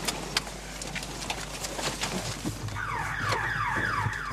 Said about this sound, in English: it hits an electric fence and triggers the house alarm